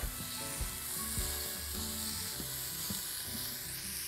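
Orzo frying with bell pepper, thyme and garlic in a pan, a steady soft sizzle under repeated scraping and knocking of a spoon stirring the mixture, close and moderately quiet.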